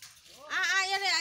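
A single drawn-out cat meow, close and fairly loud, rising and then holding for about a second, sounded by a house cat that is eating biscuits.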